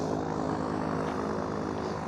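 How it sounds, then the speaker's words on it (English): A propeller airplane takes off nearby at a car meet, its engine drone steady and loud throughout the short stretch, with no talk over it. "Got a plane taking off over there."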